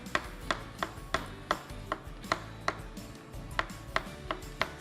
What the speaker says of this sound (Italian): per cui noi andiamo prima di tutto a tagliare i funghi, così.